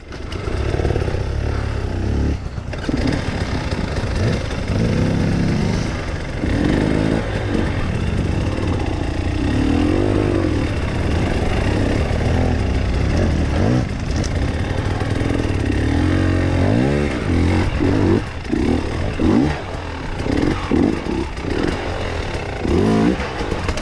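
A hard enduro motorcycle struggles up a stony extreme trail, its engine revving and blipping loudly and unevenly, with rising and falling surges, bursts of throttle and rough idling close to the microphone.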